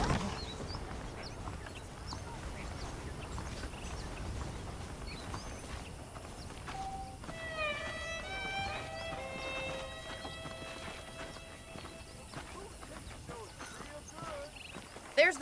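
Horse hooves clip-clop at an even rhythm in the PS3 game Red Dead Redemption, set against faint in-game ambience and brief voice-like tones.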